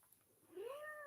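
A cat gives a single rising meow about halfway through, clear and fairly close over a quiet indoor background.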